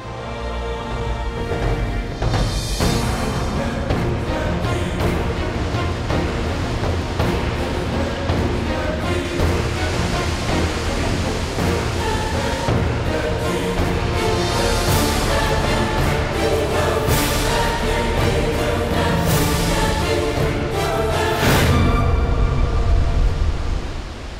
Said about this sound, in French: Bienvenue aux chutes d'Iguassou, les plus grandes chutes d'eau d'Amérique du Sud.